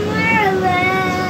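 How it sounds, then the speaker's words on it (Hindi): A cat meows in a home kitchen, a drawn-out tonal cry heard up close with a voice in the background. "और यहाँ पर बुकू अपनी बिल्ली मौसी के साथ ये देख रहा है कि मम्मा क्या कर रही है।"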